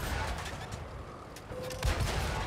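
Tank cannon fire and battle noise from the World of Tanks video game, with a heavy boom near the end over a steady rumbling game backdrop and no talk.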